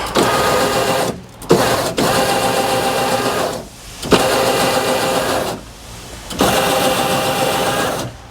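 Snowie 2015 block ice shaver motor spinning up and shaving a block of ice with the speed turned up, loud grinding whirs in several bursts separated by short pauses as the motor runs on and stops.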